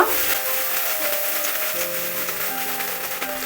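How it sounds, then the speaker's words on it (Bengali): Grated coconut frying in a pan, a steady bright sizzle and hiss with faint tonal hum underneath, continuous and close, no talking. "নারকেল কোড়াটাকে এবারে কিছুক্ষণ সময় ধরে ভেজে নিব"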